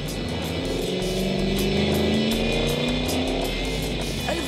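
A 200-mph rear-wheel-drive V8 coupe engine roars loud and close, a steady sustained drone with pitch slowly rising and falling across the pass.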